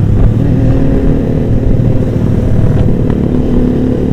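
Loud exhausts of 600 cc motorbikes rumble steadily and close by in a deep, continuous drone, with faint revving swells and no talk over them.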